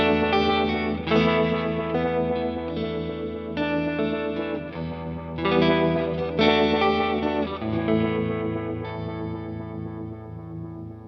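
Electric guitar played through a J. Rockett Uni-Verb reverb and vibe pedal, sustained chords and notes with a swirling, washy effect and lingering reverb tails, clear and close with no talking.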